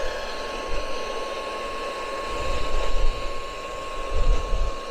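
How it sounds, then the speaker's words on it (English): A hair dryer blows steadily on a frozen water nipple during a winter storm, a constant close whine with a fixed tone and airy rush, swelling slightly at times with no talk over it. "I'm blow drying this nipple out to get it unthawed because it was frozen"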